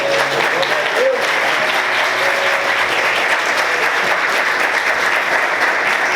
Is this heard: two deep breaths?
no